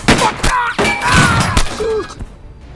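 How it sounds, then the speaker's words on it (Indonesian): Gunfire rings out in a desert shootout between colonial police and the Burns gang, with loud, sharp broadband bursts scattered across a few seconds amid crashing impacts. "sebuah baku tembak sengit pun meletus di gurun gersang antara polisi kolonial dan kelompok geng Burns"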